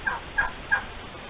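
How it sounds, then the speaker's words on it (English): A turkey gobbles close by, with three quick rattling calls in a row before quiet. "Gobble."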